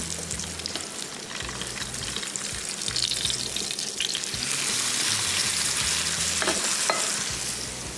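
Qeema kababs fry in a pan with a loud, dense, continuous sizzle that swells midway, while a utensil occasionally scrapes and clinks against the pan as pieces are turned; close and steady, without speech.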